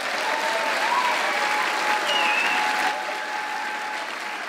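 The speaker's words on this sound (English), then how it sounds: "applause does not count towards my 2 minutes" An audience at a university president's inauguration breaks into steady applause, a broad even wash of many hands clapping with faint voices and a whoop mixed in, easing slightly in the final seconds.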